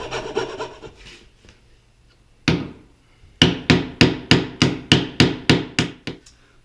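Scroll saw cutting away excess wood from a joint on a tool cabinet carcass: a loud burst, then about nine sharp, evenly spaced rasping strokes in quick rhythm, close by, with no talk.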